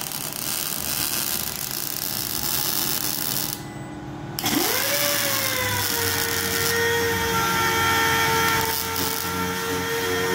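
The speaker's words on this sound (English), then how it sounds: "Just turn the grinder on." A grinder whines steadily in a garage workshop, cutting out briefly for a moment before spinning back up with a rising pitch and settling into a loud, continuous drone.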